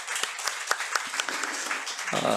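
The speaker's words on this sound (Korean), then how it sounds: "박수로 격려하시기 바랍니다" Scattered applause from a church congregation during a Sunday service, a modest spread of individual claps with a few sharper distinct hand strikes, fairly faint and brief.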